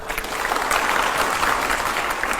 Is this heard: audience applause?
yes